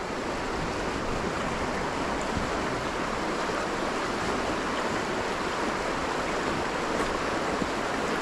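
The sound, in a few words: swollen river weir rushing water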